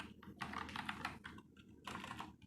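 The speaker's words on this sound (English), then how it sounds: "Spacebar's a little bit loud, but the keys feel amazing." Typing on a Rii K66 budget mechanical gaming keyboard, a steady run of close, crisp key clacks in irregular bursts with brief pauses, heard alone without talk.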